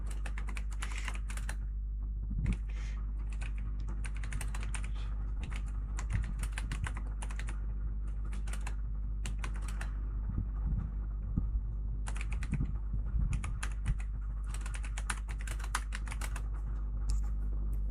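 Someone types a prompt on a computer keyboard in irregular bursts of close clicking keystrokes, separated by short pauses, over a low steady hum.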